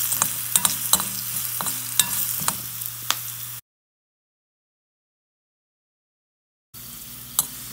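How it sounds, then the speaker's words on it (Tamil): Lentils (dal) sauté and roast in a pan, with a close crackling sizzle and clinking stirring taps, then near silence for a few seconds before the frying resumes faintly. "எல்லாத்தையும் வதக்கிட்டு கொஞ்சம் வறுத்து அந்த பருப்பு கொஞ்சம் சேஃபாக லைட்டாக பிங்க் கலராக மாறும்"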